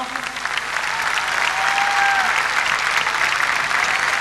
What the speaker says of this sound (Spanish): Un aplauso para Leo.